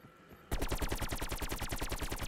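Rapid automatic gunfire from Call of Duty: Black Ops Cold War Zombies Outbreak bursts in after a brief quiet lead-in, a loud, steady stream of evenly spaced shots running to the end.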